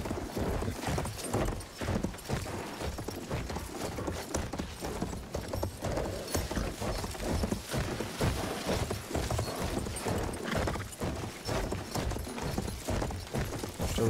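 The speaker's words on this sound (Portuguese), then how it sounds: "Yeah, está aqui um cavalinho. Isso vai ajudar bastante no retorno." A horse gallops in the World War I shooter Battlefield 1, its rapid hoofbeats pounding without a break for the whole stretch, fairly close and mixed with rattling gear.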